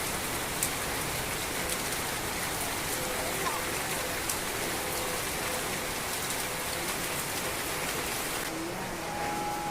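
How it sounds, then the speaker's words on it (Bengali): Steady, dense rain pours down without a break, a continuous hiss of drops drumming on surfaces close by. "দুপুরবেলায় অনেক জোরে জোরে বৃষ্টি নামতেছে"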